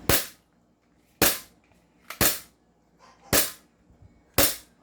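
A gun fired in single-fire mode lets off five sharp, loud cracks, one at a time at roughly one-second intervals, each ending fast with quiet between shots and no talking.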